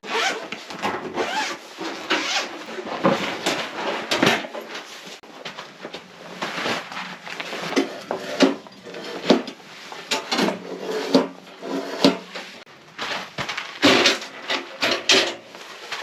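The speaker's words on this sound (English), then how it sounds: "Now I'll put up my stove." Wood stove being assembled inside a large ice fishing tent: steady clatter of metal parts, zips and rustling handling noises, close and continuous with sharp knocks scattered throughout, no talking.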